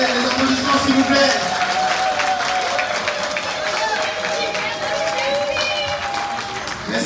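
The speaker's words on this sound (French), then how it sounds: "Les applaudissements, s'il vous plaît." Applause from the audience at an association's annual gala, a dense crowd clapping with voices and murmur mixed in and faint tonal sounds running underneath.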